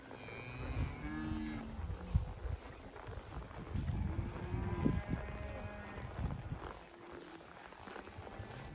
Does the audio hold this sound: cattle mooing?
yes